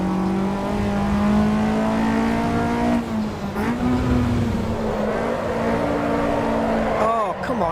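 Race car engine in Assetto Corsa EVO holding a loud, steady drone, dipping and rising with gear changes and revs as the car crests a rise, with a person talking over it.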